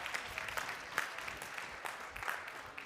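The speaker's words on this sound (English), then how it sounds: "So give it up for Nico Langmann. Big round of applause." Audience at a conference keynote clapping, a faint, brief burst of applause from a crowd heard at a distance, with a few sharper claps and a cheer-like shout standing out.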